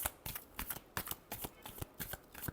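Tarot cards shuffled in a last round of quick riffles: about ten crisp bursts of close, papery rustling with a steady rhythm, no talk.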